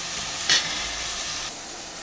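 Tomatoes sauté in a pan for a bitter gourd curry, a constant low sizzling hiss with a brief louder stirring scrape near the start.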